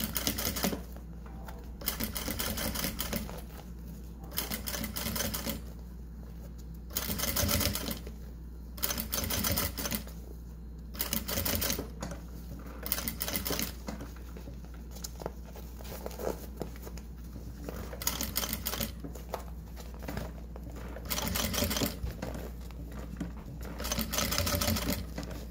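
A sewing machine stitches a fanny pack in quick rattling bursts, pausing briefly between runs as the fabric is lifted and repositioned, close and clear with no talking.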